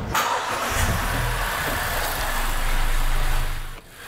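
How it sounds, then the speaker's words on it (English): A petrol car with gasoline direct injection cranks and starts in a workshop, then settles into a steady, loud idle throughout, no voices. "let's start the engine."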